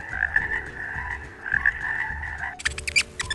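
A frog croaks in a steady run of low, buzzing calls, close and clear, followed by a brief burst of sharper, higher croaks at the end.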